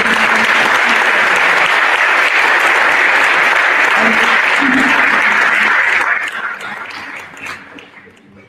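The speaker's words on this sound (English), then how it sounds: "Once again, ladies and gentlemen, a round of applause for our Union City." Loud, dense applause from a crowd at a police ceremony welcoming new officers, sustained for several seconds before tapering off and fading out.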